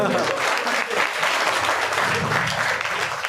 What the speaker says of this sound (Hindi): तो मैम के लिए जोरदार तालियां